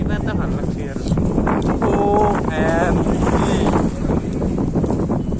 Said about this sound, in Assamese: বতাহ ধুমুহা বতাহ যেনেকুৱা বতাহ এনেকুৱা বতাহ এটা আহি আছে আৰু আৱাজ ওলাই আছে